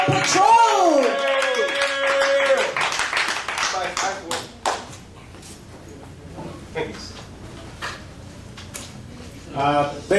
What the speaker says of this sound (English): So I want y'all to start clapping right now.